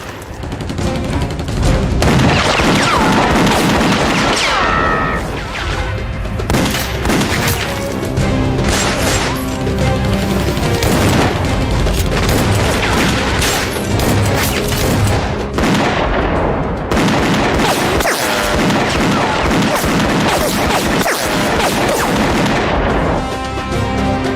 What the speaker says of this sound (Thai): ยิงกันสนั่นป่าแบบนี้ ไม่รู้ใครเป็นใครแล้ว